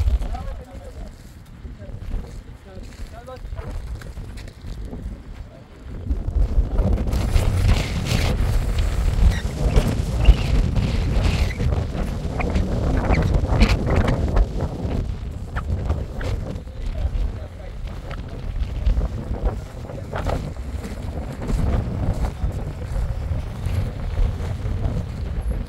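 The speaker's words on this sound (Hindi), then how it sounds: "क्या हवा चल रही है यार, क्या हवा चल रही है।" Strong wind buffets the microphone at an outdoor kite-fighting session, a continuous rumbling gusty roar that swells after the first few seconds, with people talking over it.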